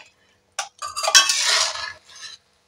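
A spoon scrapes and stirs catfish curry in a pan as fennel paste goes in, a short burst of close metallic scraping and wet stirring lasting about two seconds, with a brief clink at the start.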